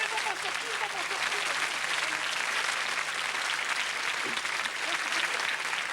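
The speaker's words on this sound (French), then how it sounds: "On applaudit Micheline." A French TV studio audience in 1990 claps steadily and densely throughout, a full even wall of applause with faint voices underneath.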